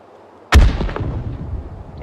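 A rocket explosion in the VR shooter H3VR (Hotdogs, Horseshoes and Hand Grenades) lands as one sudden heavy boom, then a long rumbling decay rolls on for over a second, with no voices.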